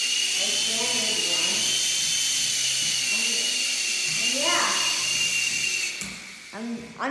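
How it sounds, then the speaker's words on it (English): A Skyrover Knight Vision toy helicopter with infrared control, its small rotor giving a high steady electric whine that runs close and constant under someone talking, cutting off near the end. "This is basically just a regular Skyrover helicopter."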